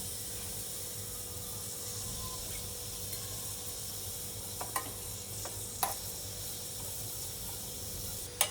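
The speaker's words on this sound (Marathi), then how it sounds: "खोबरा भाजूया।" Dry grated coconut roasts in a pan, giving a soft continuous sizzling hiss with occasional faint scraping stirs and small clicks, close and quiet, with no voices.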